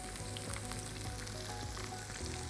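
Salmon fries in a hot pan with a dense, steady sizzle that stays close and loud, crackling evenly throughout with no voices.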